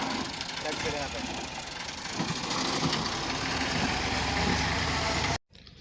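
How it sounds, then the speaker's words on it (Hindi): A tractor engine rumbles steadily at a village site being cleared, a continuous idling drone heard from nearby. A voice speaks over it before the sound cuts out abruptly near the end. "अब ट्रैक्टर यहाँ आ चुका है।"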